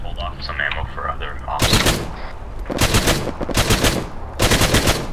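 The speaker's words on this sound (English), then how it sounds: "I'm just suppressing Moist." Sustained suppressive automatic gunfire in the military shooter game ArmA 3, coming in three loud bursts of rapid shots after some radio chatter, with players talking between the bursts.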